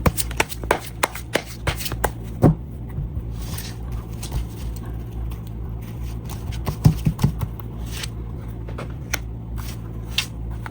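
Tarot cards shuffled by hand before a draw, making a run of quick, close papery riffles and soft slaps in uneven bursts over a steady low room hum.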